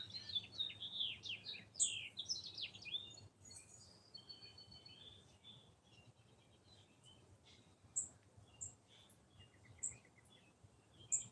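Small bird chirps in quick bright bursts, then sparser single tweets, fairly faint over a quiet outdoor background.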